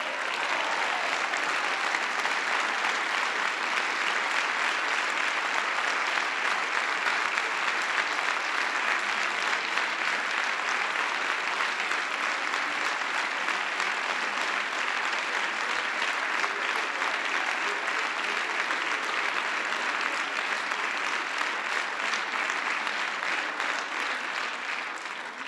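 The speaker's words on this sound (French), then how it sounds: "Et je ne résiste pas à faire applaudir par ses collègues les Républicains la remarquable et courageuse Marine Brenier." Parliament members give sustained applause, an even, continuous roar of many hands clapping that holds steady for a long stretch before tapering slightly.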